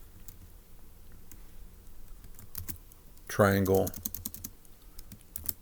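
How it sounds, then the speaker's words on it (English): A computer keyboard is tapped while notes are typed, with light scattered clicks throughout and a short stretch of speech partway through. "So let's go ahead and type that up in our notes in section D."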